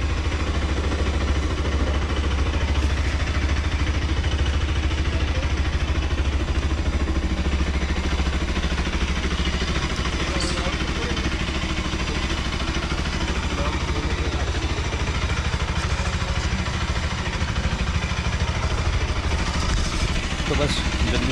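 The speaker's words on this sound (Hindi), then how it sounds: "पहले कर लेते हैं इसको कोल्ड स्टार्ट, क्योंकि कोल्ड स्टार्ट करना बहुत ज़रूरी है।" A motorcycle idles after a cold start, a loud, steady low engine rumble running throughout with faint clatter on top and no pauses.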